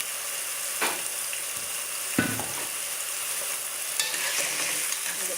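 Scallion, Scotch bonnet pepper, garlic and thyme sautéing in a pan, with a steady sizzle broken by a few distinct spoon scrapes as the mixture is stirred.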